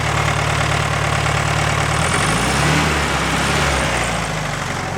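A 1970 VW Beetle engine idles steadily at close range, a continuous loud rumble with a slight dip and rise in pitch midway.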